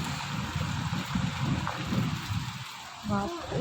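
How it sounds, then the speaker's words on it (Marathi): Heavy rain falls in a steady, dense rush, with a faint voice speaking briefly near the end. "जोरात पाऊस पडतोय"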